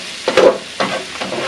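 Warm noodles and vegetables stir-fried for fried noodles, giving bursts of close sizzling and frying with a few scraping stirs of the pan, no talking.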